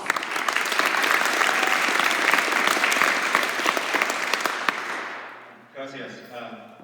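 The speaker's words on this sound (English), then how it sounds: "And so, round of applause, please." Sustained audience applause fills a candidate accountability forum hall for about five seconds, dense and loud, then fades as a voice begins speaking.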